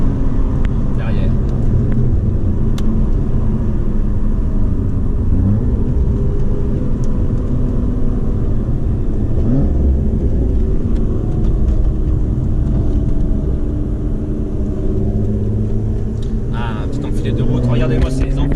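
Supercar engines, including an Audi RS3 and a Porsche, rumble steadily on a winding road, a loud continuous low drone with rising and falling engine notes, heard from inside a car under ongoing talk.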